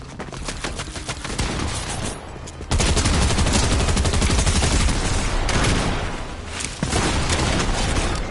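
Rapid gunfire in the video game Fortnite crackles nonstop and loud, bursts of automatic fire overlapping with heavy shots, swelling sharply after a short lull and continuing dense to the end.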